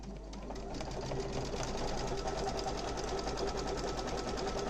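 Embroidery sewing machine working a satin stitch border around a patch in its built-in frame, a fast steady mechanical whir and rapid needle clatter, close and continuous.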